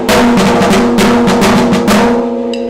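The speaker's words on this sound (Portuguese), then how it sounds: "Este é o som da caixa." A 14-inch snare drum (caixa) of a school marching band, played in a quick rhythmic pattern of crisp, rattling strokes, loud and close, ending with a brief decay.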